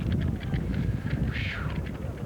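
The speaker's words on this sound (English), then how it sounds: "that wind is really blowing" Wind buffeting a microphone outdoors at a 1989 high school varsity baseball game, a steady low rumble running throughout with faint higher noises over it.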